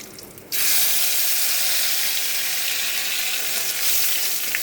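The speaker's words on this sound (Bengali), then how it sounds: "এখানে মশলাটাকে আমি ভেজে নেব।" Whole spices, bay leaf and cumin seeds dropped into hot oil in a kadai, bursting into a sudden loud, dense sizzle that holds steady to the end.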